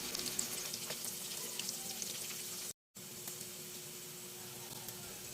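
Dried fish (tuyo) frying in a hot pan gives a steady, close sizzle and crackle that runs on alone with no voices, broken by one brief moment of silence midway.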